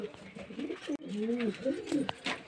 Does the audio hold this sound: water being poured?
no